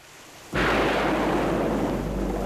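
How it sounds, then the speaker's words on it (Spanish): A German Loon missile failing at launch gives a sudden loud roaring blast that starts abruptly and then holds as a sustained broadband rumble, with no voices. "Este lanzamiento ha fallado, probablemente a causa de un mal funcionamiento del sistema de propulsión."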